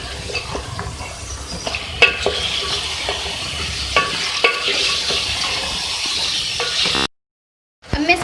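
A spoon scrapes and stirs spiced chicken with coriander powder, turmeric and red chili powder in a sizzling pan. Irregular clinks and scrapes sound over a steady fry, close and alone, then the sound cuts out briefly near the end.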